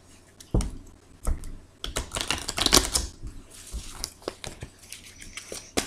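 Tarot cards being shuffled give off soft, irregular flicking and tapping riffles, close and moderately quiet, in uneven clusters over several seconds.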